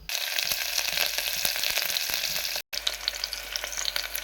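Onions hit hot oil already fragrant with cardamom, cloves and cinnamon for a green pea gravy, a loud continuous sizzle with crackling pops that cuts out briefly and then resumes.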